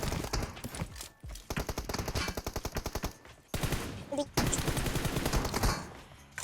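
Bursts of automatic gunfire in the video game PUBG Mobile, rapid rhythmic shots in several volleys split by short pauses, fairly close, with brief voice sounds between bursts.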